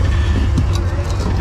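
Off-road vehicle crawling over a rocky ridge on an OHV trail, a loud, steady low engine rumble held close throughout, with people talking over it.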